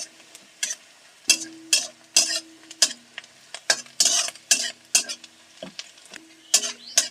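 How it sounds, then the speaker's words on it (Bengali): Onion stirred while frying in oil until reddish, a spatula scraping the pan in repeated strokes over a soft sizzle, close and alone. "পেঁয়াজটাকে একটু নাড়াচাড়া করে লাল করে ভেজে নিতে হবে"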